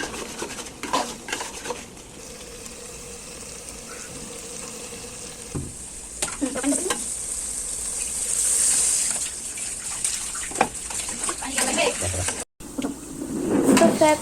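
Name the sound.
stirring and sautéing beef lung in a pan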